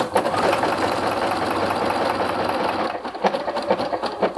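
A sewing machine runs steadily in stretch stitches, joining an inseam pocket to a skirt, its loud continuous whir dropping into shorter uneven bursts near the end.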